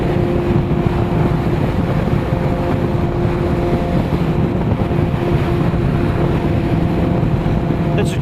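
Honda SP1 motorcycle at wide open throttle: a steady, droning engine roar with strong wind buffeting, loud and continuous throughout with no letup.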